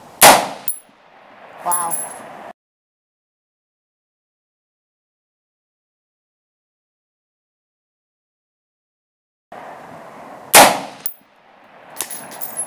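Two pairs of sharp, loud rifle shots from a bare barrel at night, separated by a long silence, each crack followed by a short ringing tail and brief outdoor reverberation.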